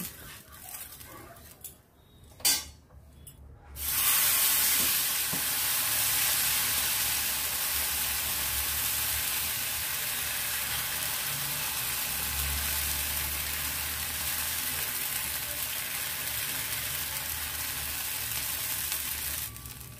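Pitha frying in mustard oil: after a few sharp clatters, a loud continuous sizzle kicks in and holds steady, a dense bubbling hiss with faint crackles throughout.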